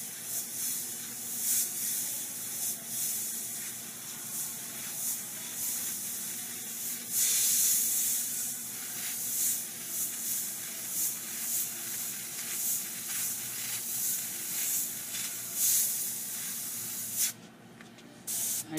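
An airbrush spraying paint for fine lettering gives a steady soft hiss broken into short pulses, with a few louder bursts and brief pauses, close by and without talk.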